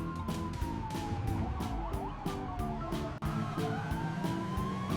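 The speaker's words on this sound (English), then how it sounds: "Police car." A police car siren wails in a steady rising and falling tone, playing over bouncy rhythmic background music with no talking.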